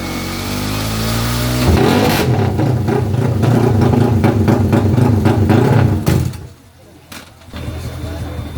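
A Honda Sonic motorcycle engine fires up with the starter and runs loud and close. Its buzzing drone holds strong for several seconds, then drops away abruptly, leaving quieter background noise.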